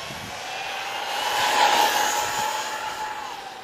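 A VIKAR Bison RC car on a speed run at full throttle, a high, thin motor whine that swells as it passes closest and then fades, heard from a distance.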